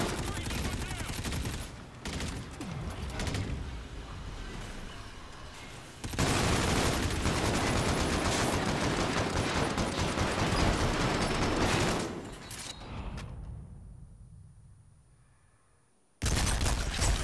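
Gunfire in a multiplayer video game shootout, loud, dense bursts filling most of the stretch and fading out near the end, with voices talking over it.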